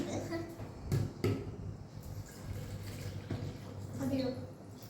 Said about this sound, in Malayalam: അടുത്ത നമ്മൾ ഇടുന്ന തണുത്ത വെള്ളമാണ് കേട്ടോ